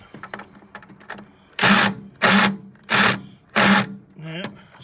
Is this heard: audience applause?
no